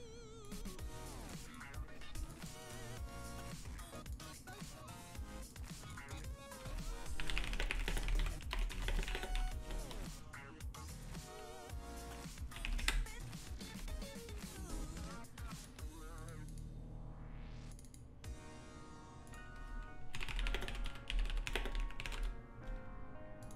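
Rapid typing on a computer keyboard during an online poker final table, busy bursts of clicking keystrokes close to the microphone, running almost continuously with brief pauses, a voice speaking over parts of it.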